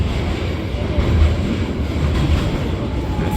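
A tram rumbles past on an Istanbul city street in rainy weather, a steady low rolling roar with faint rail clatter, fairly close and continuous throughout.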